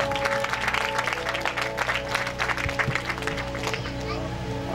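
Audience applause at a church event in Ixcotoyac fills the space as a dense, continuous wash of clapping, steady in loudness throughout, with a low hum and indistinct voices underneath.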